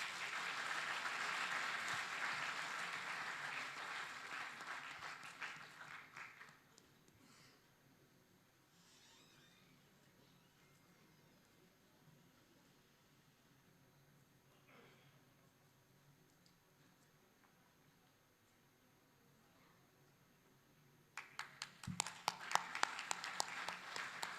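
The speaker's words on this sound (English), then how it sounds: "Ladies and gentlemen, give a big round of applause." Audience applause at a technology conference, a dense burst of clapping that fades to a quiet hall, then a second round of clapping starts near the end.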